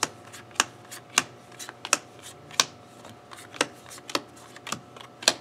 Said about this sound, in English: Are you table shuffling?